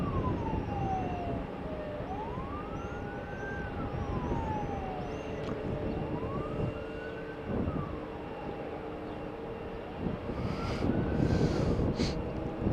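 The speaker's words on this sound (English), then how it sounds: "that's a fire truck" A fire truck siren sounds at an airport, its tone rising and falling in slow repeated wails, moderately distant beneath a continuous background rumble.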